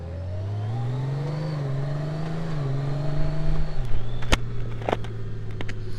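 A 2024 Honda Goldwing motorcycle engine hums steadily up close, its pitch rising gently as the bike pulls away, then shifting and settling into a rougher, louder drone with small clicks and wind buffeting.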